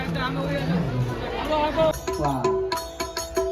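Lively crowd chatter and overlapping voices fill a village Guru Purnima community feast in Bhavnagar, a steady close hubbub of people talking while eating, with some clapping-like knocks toward the end.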